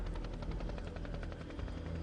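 Military helicopters fly in close, a loud steady rotor thump and engine roar filling the short stretch without speech.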